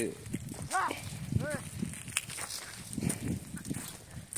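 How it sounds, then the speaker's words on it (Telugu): A flock of sheep grazes with a lone shepherd on the outskirts of Thotapalli village, Kalwakurthi mandal: a couple of short wavering bleats early on over shuffling movement, with people talking nearby throughout. "ఒక్కడే వచ్చి గొర్రెని మేపుకుంటూ తిరుగుతున్నాడు"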